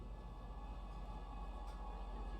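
A train in the video game Star Citizen, arriving at a spaceport: a steady, loud, continuous rail rumble with a faint tonal hum running through it and no pauses.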